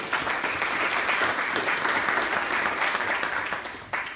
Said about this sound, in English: Can we give Rick a round of applause?